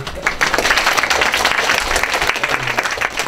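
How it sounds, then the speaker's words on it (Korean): Students at a university admissions briefing applaud the admissions officer after an hour-long presentation, a lively, even burst of many hands clapping close by for the whole stretch. "1시간 동안 설명해 주시려고 고생하신 윤석 사정관님께 큰 박수로"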